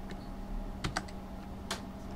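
Quiet computer keyboard typing for a Control-C shortcut, a few soft separate key clicks over a steady faint room hum.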